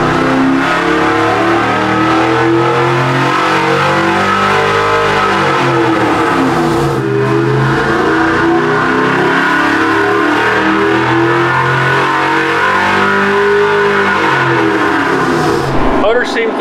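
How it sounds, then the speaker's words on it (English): A car engine on a dynamometer revs hard and holds loud sustained pulls with rising and falling pitch, running continuously at close range while voices talk over it. "Dyno pulls are coming up."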